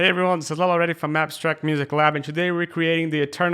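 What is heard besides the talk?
No distinct noise like a dog, phone or traffic.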